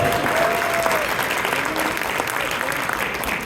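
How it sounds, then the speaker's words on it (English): A seated audience at a community coalition brunch gives a steady round of clapping, a dense, even wash of many hands that holds through the whole stretch without fading. "Clap it up."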